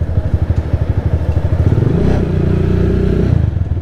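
A motorcycle idles with a rapid, close, chugging pulse, then the engine revs up into a louder, steady roar, heard alone without talk.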